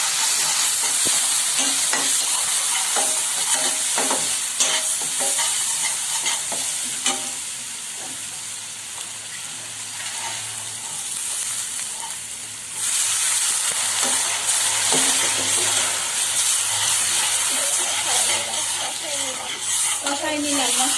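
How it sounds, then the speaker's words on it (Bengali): Spice masala with ground coriander and salt fries in a pan while being stirred, giving a continuous sizzle with scraping stir strokes throughout, loud and close, with a brief quieter stretch midway. "কষাই নিলাম মশলাটাকে আমি একটু জাস্ট কষাই নেব হালকা"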